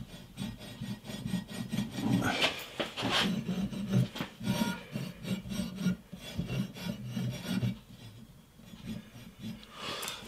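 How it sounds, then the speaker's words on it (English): Hand plane shaving a wooden guitar neck blank flat in a workshop: a run of close, repeated rasping strokes at a steady rhythm, fairly loud and alone. "I've also planed off the markings for the neck"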